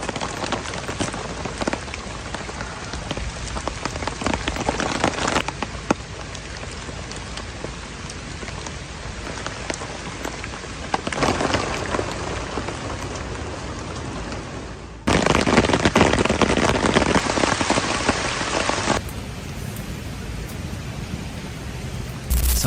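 Steady nonstop rain falls in a rain-soaked forest, a dense even hiss of drops on surfaces that swells louder in stretches, with no voices.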